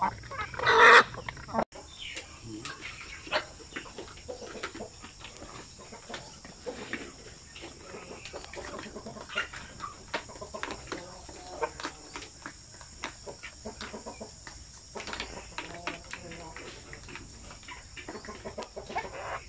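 Native chickens cluck and chatter during feeding, with scattered nearby clucks and one loud call near the start over a low farmyard background.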